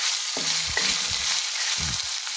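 Tomato puree hitting hot oil with frying garlic and ginger in a pan, a steady bright sizzle with low stirring knocks and scrapes of a spoon, close and alone.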